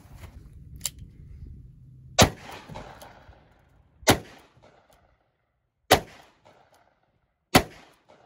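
.357 Magnum revolver shots fired into an office chair used as improvised armor: four sharp, loud bangs spaced about two seconds apart, each with a short ringing decay, after a low rumble at the start.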